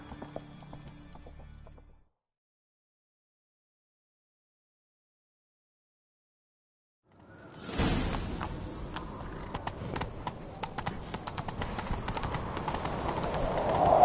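Silence, then a burst of galloping horse hoofbeats and rumbling movement in The Witcher 3 kicks in and keeps going steadily, loud and close, with busy clattering on top.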